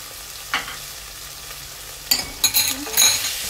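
Chili masala spice frying in a pan over high heat, with a soft steady sizzle broken by a few sharper spatters and stirring scrapes toward the end, close and with no voices.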